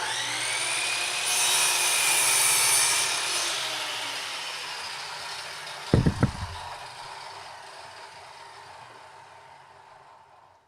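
Hand saw cutting through wood, steady rasping back-and-forth strokes at close range that grow louder, then fade, with a brief cluster of knocks near the middle.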